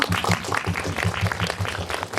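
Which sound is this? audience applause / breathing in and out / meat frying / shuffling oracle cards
audience applause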